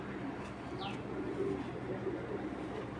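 Pigeons coo softly against a steady indoor background hum, with one brief higher chirp early on.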